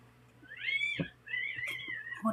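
A cat meows twice in quick succession, the first call rising and falling, the second longer and drawn out, close and clear over quiet background hum.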